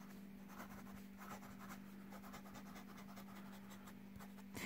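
A Sheaffer Balance fountain pen with a thin nib writes across paper, giving a faint, continuous scratchy rustle with small strokes, close up and alone, over a steady low hum.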